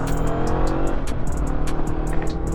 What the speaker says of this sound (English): If you need to get on the power like I did there to make a gap, it is there.